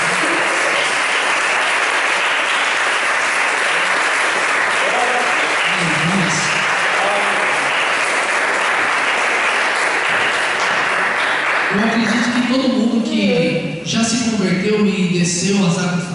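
Steady, dense applause from a large church congregation fills the space throughout, with voices talking and calling out in Portuguese over it toward the end.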